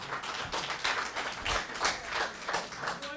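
School board meeting audience applauding, a dense, steady patter of many hands clapping at moderate distance for a few seconds without a break.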